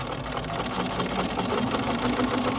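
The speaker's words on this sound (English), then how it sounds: "And we're gonna sew that all the way." A sewing machine stitches a quilt block in a steady, continuous mechanical whir that runs close and evenly throughout, with no voices.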